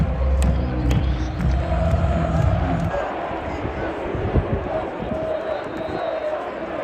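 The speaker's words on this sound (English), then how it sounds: "the famous OHIO chant goes around the stadium, starting in the south end, with each side taking up a letter" A huge football crowd in Ohio Stadium roars through a chant, one section after another taking up the letters of OHIO; a loud low massed shout at first gives way to broad crowd noise and scattered voices.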